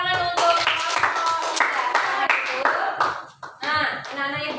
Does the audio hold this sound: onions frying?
no